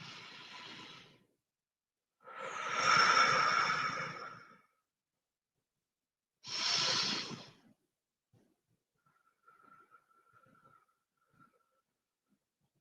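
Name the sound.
slow breathing during qi gong exercise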